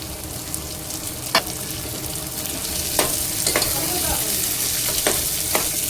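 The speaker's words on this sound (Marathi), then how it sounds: "त्यालाही छान परतवून घेते मी आधी कांद्यासोबत" Sprouted moth beans (matki) sauté with browned onions in a pan for Kolhapuri misal, giving a steady, close sizzle punctuated by sharp spatula scrapes and taps every second or so, with no voices.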